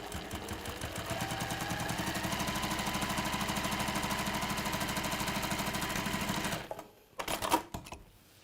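Sewing machine stitching across the end of a zip on a textile project, a steady rapid mechanical needle rhythm running for several seconds, then stopping with a few clicks and handling sounds.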